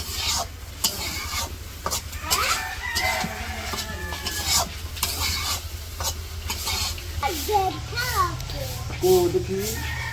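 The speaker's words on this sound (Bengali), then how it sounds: "ওই যে মুরগিরে খাবার দিতে যাইতেছে" Chickens in a Bangladeshi village yard cluck and squawk intermittently as they are fed, mixed with stirring and sizzling from nearby cooking and children's voices in the background.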